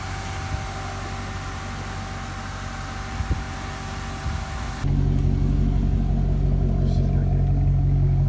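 A Maserati sports car's engine, first a steady idling drone, then a sudden step up into a louder, deeper rumble. Voices talk over it.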